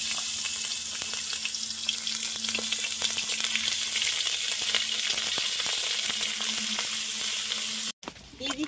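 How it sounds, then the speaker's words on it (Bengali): Ginger and green chili paste sizzles in hot oil with a nigella seed tempering, a steady loud crackling fry with faint stirring scrapes, cut off abruptly near the end. "দিয়ে দিচ্ছি কালো জিরে ফোড়নে, দিয়ে দিচ্ছি আদা কাঁচা লঙ্কা বাটা"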